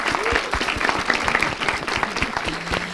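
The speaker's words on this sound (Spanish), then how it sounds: "Un aplauso para Pacquiao, que platicó con nosotros." Close, lively audience applause with distinct individual claps over a dense wash, holding at a steady level throughout the few seconds.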